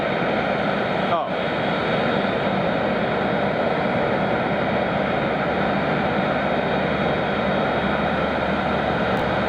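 Jet airliner engines spooling up after pushback at Munich airport, a loud continuous broadband roar with a steady whine holding throughout, heard from a nearby vantage point.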